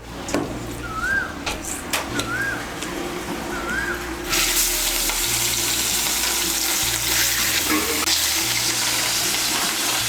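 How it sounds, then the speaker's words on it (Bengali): Rohu fish pieces marinated with salt, turmeric and chili powder frying in hot oil for a Bengali fish curry, a steady loud sizzle and hiss that swells after a few seconds of quieter kitchen noise, close with no voices. "এই তেলের মধ্যে মাছগুলো ভেজে নেব"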